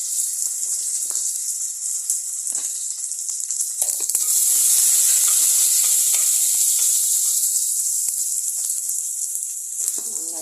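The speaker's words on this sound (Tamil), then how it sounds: "வெங்காயம் நல்லா வதங்கிட்டோம்" Onions, about one and a half large ones, sautéing in a pan with a sprig of curry leaves, giving a steady loud sizzle and hiss throughout, with a few faint clinks and no talk.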